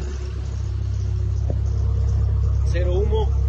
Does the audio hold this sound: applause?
no